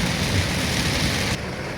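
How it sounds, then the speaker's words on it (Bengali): Heavy rain pours onto a street in Dhaka, a dense, steady roar of downpour that holds loud and unbroken throughout, with no voices. "দেখেন দেখেন রাস্তায় কি পরিমাণ বৃষ্টি"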